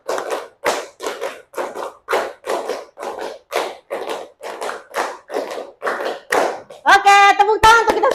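A primary school class claps hands in a steady rhythm of short bursts, loud and close, ending in a quicker flurry of claps.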